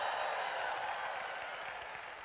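Audience at a business event applauding for their country, the United States: a faint, steady wash of many hands clapping at a distance, slowly fading.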